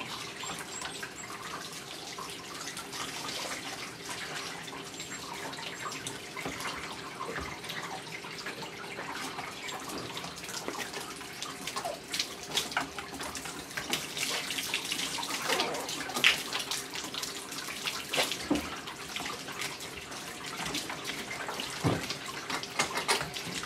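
Water sprays steadily from a hose while a dog named Jackson is bathed at a grooming salon, a broad continuous hiss with small splashes and drips, close and fairly even.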